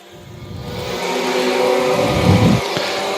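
A pack of Super Late Model and Four-Wheel Drive race cars roars out of turn 4 at the green flag during a Friday Jamboree heat, engines building from a low rumble to a loud, sustained revving surge.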